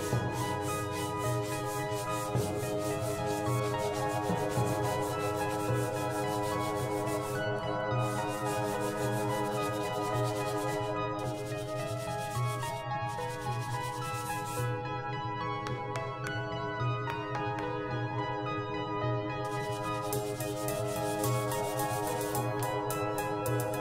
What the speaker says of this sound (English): Before we stain the wood, we're going to give it a light sanding.